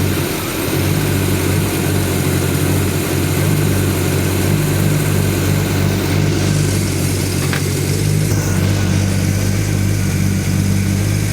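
A freshly rebuilt engine idles through camshaft break-in with a steady, loud, even drone and a low rhythmic thrum, held constant throughout with no talking.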